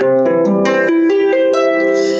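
Rapid plucked harp notes ripple through a quick, slightly uneven arpeggio, with bright ringing tones shifting in pitch and accents landing unequally.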